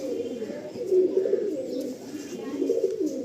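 Pigeons in a loft give low, soft cooing in a couple of close, rolling phrases over a faint background hum.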